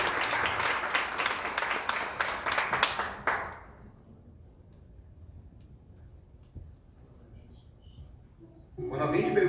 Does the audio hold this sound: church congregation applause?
yes